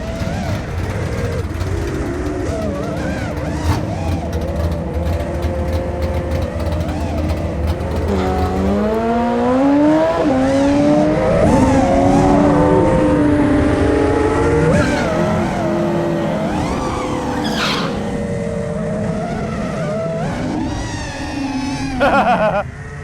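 A dragster making a run, engine droning and rising in pitch as it accelerates, revs climbing and sweeping through gear changes, loud and close throughout with wind noise near the end.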